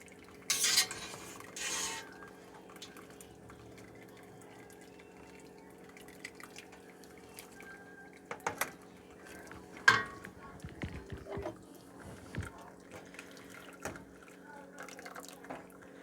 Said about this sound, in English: I'm just taking a spoon and pressing it through.